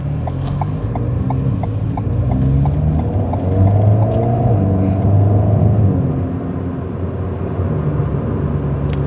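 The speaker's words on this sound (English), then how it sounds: "It's weird how on part throttle it's so quiet and peaceful" An Alpine A110 sports car cruises on part throttle with a steady, subdued engine drone and road rumble, loud and close throughout, with gentle rises in pitch and no talking.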